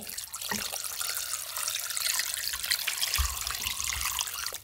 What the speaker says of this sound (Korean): 그 다음에 물을 부어주세요.